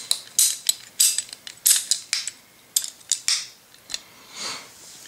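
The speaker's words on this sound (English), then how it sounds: "This is my favorite tool for cutting PVC as opposed to a hacksaw." Ratcheting PVC pipe cutter biting through PVC pipe, a close series of sharp, uneven clicks and snaps, about a dozen in quick succession, ending in a softer final crunch.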